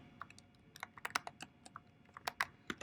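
Quiet, close computer keyboard typing, a burst of irregular key clicks of varying strength as a command is entered, with no voices.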